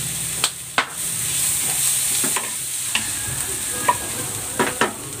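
Mixed vegetables with onion are stir-fried in a pan for fried rice: a steady hiss of frying under irregular clanks and scrapes of a utensil against the pan, close and loud, with no talking.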